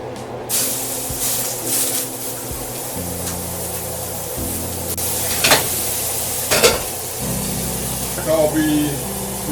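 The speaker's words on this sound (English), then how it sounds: "Now that's getting warm, the pan is warm enough to put the patties in there." Ground beef patties frying in a warm pan on a home kitchen stove, a steady sizzle running throughout with clinks of a spatula and pan, while someone talks over it.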